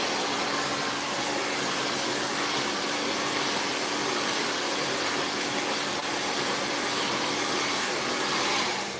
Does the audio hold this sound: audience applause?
no